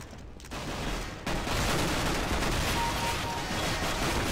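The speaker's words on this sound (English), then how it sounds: "So, these are the shotguns." Shotguns firing in Counter-Strike: Global Offensive on PS3, a sharp onset followed by dense sustained loud blasts and rumble, close and continuous through the rest of the moment.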